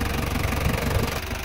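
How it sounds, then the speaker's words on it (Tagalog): A Mazda Bongo R2-RF semi-electronic engine keeps idling steadily at close range, a continuous low rumble with a faint knocking texture and no stutter or stall, alone without voices. "kita nyo ngayon ay hindi na namatay yung makina"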